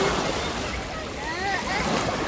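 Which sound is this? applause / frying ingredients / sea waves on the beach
sea waves on the beach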